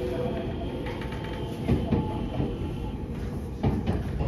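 A Chuo West Line rapid train bound for Ina-Kita runs through Ina-Shinmachi station on the Iida Line without stopping, heard from on board as a steady low rumble with periodic clattering thumps of wheels over rail joints.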